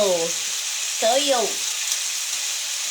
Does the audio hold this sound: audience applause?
no